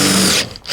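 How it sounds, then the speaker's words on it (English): A Makita or DeWalt compact 18/20-volt cordless drill whirs loudly at speed while boring through material, then cuts out abruptly and briefly revs again in a short burst. "I'm just gonna let the drill kind of go through the material nice and easy on its own time"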